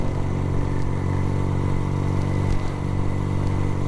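A restored Benelli motorcycle engine runs steadily, giving a loud, continuous low rumble throughout with no voices over it.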